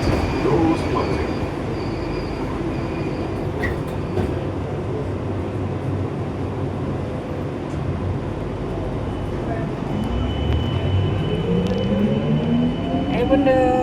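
A Kuala Lumpur LRT light rail train rumbles steadily along the track, its low, continuous roar filling the carriage, with wheel squeals rising near the end and people talking quietly inside.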